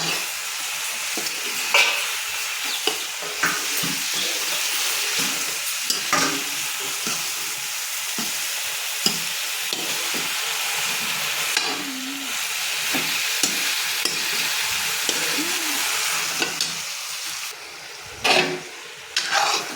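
Cabbage sabzi cooking in a pan, a continuous close sizzle with frequent scraping stirs and clatters of a spoon against the pan, running alone throughout.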